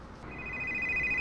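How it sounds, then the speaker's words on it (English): A phone rings in the Farming Simulator 19 video game, with a steady electronic ringtone tone that repeats in short pulses over a faint background hum, with no speech. "Is that my phone?"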